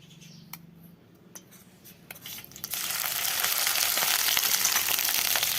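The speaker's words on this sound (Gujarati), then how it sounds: "તેલ થઈ ગયું છે ગરમ લીલી ચટણી આપણે નાખી દઈ" Green chutney dropped into hot oil bursts into a loud, continuous sizzle after a few sharp clicks and taps of preparation, the frying hiss filling the rest of the moment close up.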